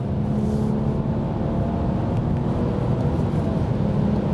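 A BMW 340i with 330 pound-feet of torque drives at high speed, heard from inside as a steady, loud, low engine and road rumble that stays even throughout, with no talking.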